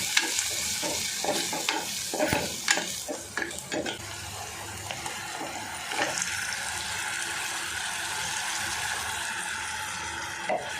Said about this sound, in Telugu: పసుపు, ధనియా పౌడర్ వేసుకొని కలిపేసుకొని చికెన్ వేసేసుకుందాం.